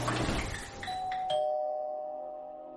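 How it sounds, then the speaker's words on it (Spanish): A doorbell chimes in an empty house, a couple of clear ringing tones that sound over a brief muffled rumble and then fade out slowly and cleanly. "sonó un timbre"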